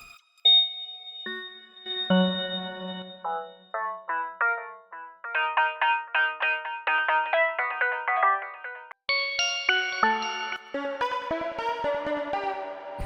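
Bright synthesizer notes from the GMS instrument in FL Studio Mobile play an improvised bell-like melody, quick plucked tones in shifting chords and runs, loud and clean with no talking.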